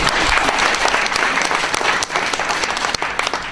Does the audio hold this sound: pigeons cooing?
no